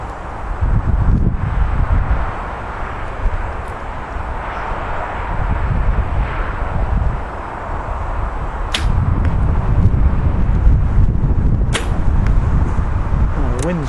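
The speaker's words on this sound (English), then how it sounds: "Wind's picked up quite a lot here." Strong gusty wind roars outdoors at an archery range, buffeting loudly and continuously with low rumbling bursts and a few sharp snaps.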